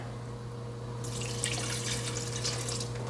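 Water runs steadily from a tap into a pot for a pickled watermelon rind brine, starting a second in and continuing as a loud, close, unbroken stream over a constant low hum.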